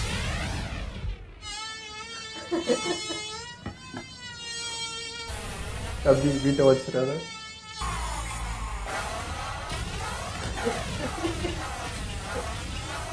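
A mosquito in the One Punch Man anime buzzes loudly in long, wavering whines that swoop up and down in pitch, nearly continuous, with a brief spoken line at the start.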